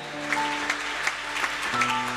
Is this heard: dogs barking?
no